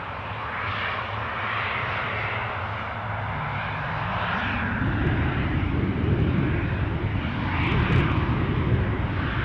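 An Eastern Airways airliner passes over Newcastle Airport, a broad engine rumble that starts moderate and grows fuller and louder as the aircraft draws nearer, with no talk over it.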